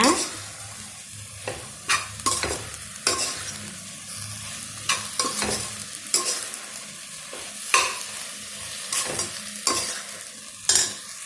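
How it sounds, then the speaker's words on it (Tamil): Vegetables for a rice-style veg biryani sauté in oil, giving a steady sizzle with repeated scraping stirs of a spoon in the pan at close range, with no talk. "ஸோ அது வரைக்கும் இதை நல்லா வந்து வதக்கிக்கோங்க"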